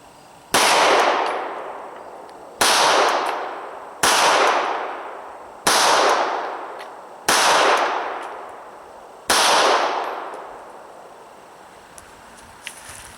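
Six sharp Glock 26 pistol shots fired at 10 yards ring out at roughly even spacing, each a loud close crack with a fading echoing tail, followed by quieter small clicks.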